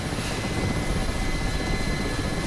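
A Mi-8 helicopter flies in the DCS combat flight simulator, its rotor and turbine roar a loud, steady, broadband drone that runs unbroken through the whole stretch with no voices.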